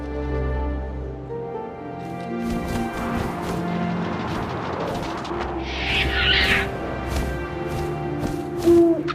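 An owl hoots in What Remains of Edith Finch over a low wind-like drone and soft game ambience, a single rounded call standing out near the middle.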